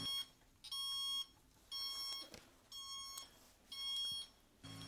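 A door alarm in an abandoned courthouse sounds in repeated electronic beeping bursts, about one per second, separated by short gaps, fairly faint and heard alone in a quiet space.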